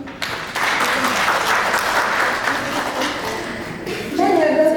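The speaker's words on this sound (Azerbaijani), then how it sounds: "Bir özünüzü gözəl alqışlayın" Women in an auditorium audience at a social-support event in Zaqatala break into loud, sustained applause that swells and holds for several seconds, with a brief voice near the end.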